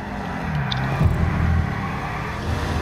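A car in a PS4 racing game drives with a steady low engine drone that rises briefly near the one-second mark, then settles into an even hum.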